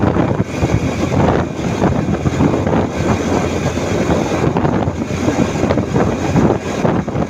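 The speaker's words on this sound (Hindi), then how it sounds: "कितनी प्यारी ठंडी हवा चल रही है।" Cool mountain wind blusters against the microphone on a bike tour toward Naran and Babusar Top, a loud continuous rushing roar that swells and eases without any talk.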